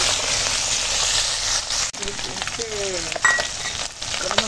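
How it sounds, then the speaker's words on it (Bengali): Small fish rubbed with salt and turmeric dropped into hot oil to fry, a loud continuous sizzle with a sudden crackle when they go in, and a voice speaking briefly over it. "আর ছোটো মাছ দিয়ে দিচ্ছি, ছোটো মাছ ভেজে নেবো।"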